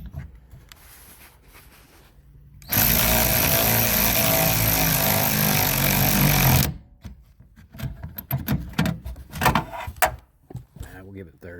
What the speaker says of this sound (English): I'm going to try using this electric ratchet